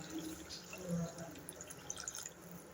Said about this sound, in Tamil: தேவையான அளவு புளித்தண்ணி விட்டுடலாம்.